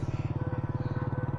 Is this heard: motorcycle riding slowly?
yes